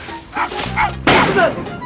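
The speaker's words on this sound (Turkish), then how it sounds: "Köpek geliyor kuduz it gibi saldırıyor evimizi parçalayacak." A dog barking and yipping in an agitated, aggressive way indoors in a comedy scene, a couple of loud bursts with people talking around them.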